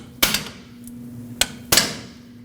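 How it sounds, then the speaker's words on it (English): A hammer strikes a pry bar set against a metal steering rack boot clamp on a Nissan Frontier, three sharp metallic hits at uneven spacing, close and loud, with no talking. "Set your pry bar right on that clamp and hit it with your hammer."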